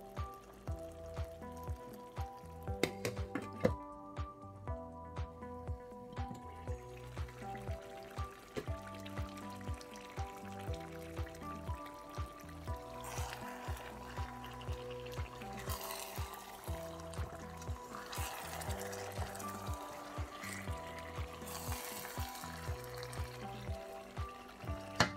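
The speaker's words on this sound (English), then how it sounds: "Going to be adding some water, not too much." Water is poured into a pot of pepper stew as it cooks, a quiet splashing and trickling under steady background music with regular beats, the pour most evident partway through.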